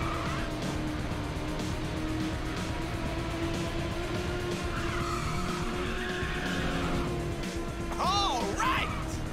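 A race car in the video game Ridge Racer 6 hits a nitrous boost, a steady engine roar with tire squeal and a rising whine near the end, loud and continuous under game music.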